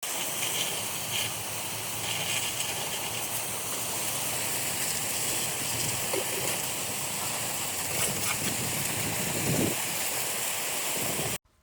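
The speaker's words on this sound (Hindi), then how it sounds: "तो करते हम अपने ट्रैक्टर की वॉशिंग।" Water sprays steadily while a 4x4 tractor caked with mud and dust is washed, a continuous hissing rush held at one level for about eleven seconds before cutting off abruptly.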